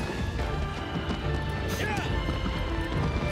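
A horse gallops in the video game Shadow of the Colossus Remake, its rapid hoofbeats running steadily and fairly close amid other game sounds and a busy background.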